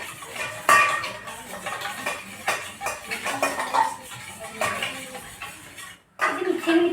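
A spoon clinks and scrapes against a bowl or glass while stirring lemon juice with powdered sugar, a run of close, irregular metallic taps and scrapes with a brief pause before the stirring resumes.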